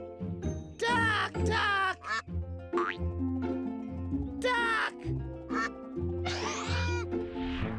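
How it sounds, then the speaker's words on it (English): Cartoon duck quacks in a toddler's first-words animation, repeated loud nasal quacks mixed with springy boing effects and a jingling musical backing, with childlike voices in places. "Duck!"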